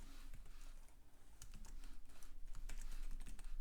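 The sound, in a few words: typing on a computer keyboard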